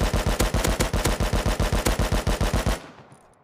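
AK rifle fired in full auto in the game Rust, a rapid even burst of about twenty loud close shots that stops abruptly, followed by a brief quiet tail.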